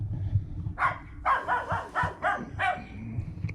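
A dog barks in a quick series of about six short, close yaps in a garage where a 1974 Dodge W200 truck's fuel line is being worked on, with no talk during the barking.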